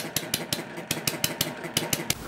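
A small Chinese hit-and-miss engine runs nearby, firing in a quick uneven chain of sharp thumping beats a little under six per second, loud and mechanical with no one talking.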